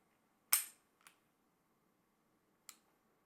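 Pistol dry-fire clicks: one sharp, distinct click followed by a fainter click a half second later, then another crisp click after a pause, close and isolated against near silence.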